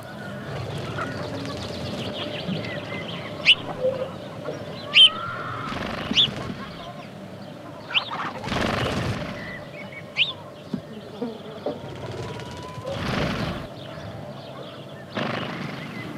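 House sparrows chirp in short, scattered bursts during mating, the calls coming near and moderately loud over a steady background hum, with a few louder broadband rustles and knocks between them.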